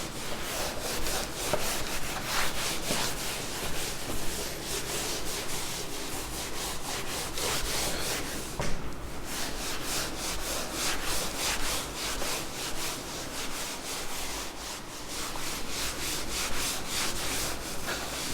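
A duster rubs writing off a classroom board in a long stretch of steady back-and-forth scrubbing strokes, close and fairly loud, with no voice over it.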